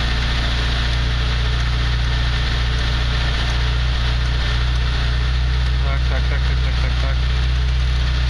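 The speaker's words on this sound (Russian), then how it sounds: "Так, отпускаем очень медленно сцепление. Очень-очень медленно. Обороты начинают падать." A car engine idling on LPG, a loud steady drone with a low hum, the revs sagging slightly as the clutch is released very slowly. Someone speaks over the engine.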